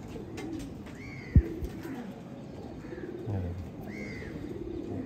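Pigeons coo in low, repeated rolling calls amid faint chirps, with a sharp knock midway and quiet background noise throughout.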